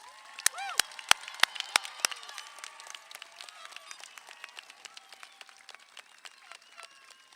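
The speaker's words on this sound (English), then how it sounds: "Let's give a thunderous round of applause to the top 20 graduates." Spread-out clapping and cheering from the crowd at the May 2024 Sahuarita High School graduation, honoring the top graduates. Loud separate claps ring out at first, then thin into lighter, scattered clapping with some whistling.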